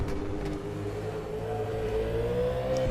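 A V8 Supercar Ford engine in the rFactor 2 racing game holds a steady, droning mid-pitched note that rises gradually in pitch as it accelerates, close and alone throughout.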